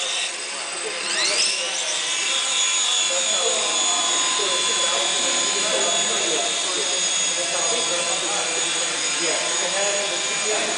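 A V913 400-size four-channel fixed-pitch RC helicopter spinning up for its first flight, a steady high electric motor whine with a rising pitch early on, with voices talking over it.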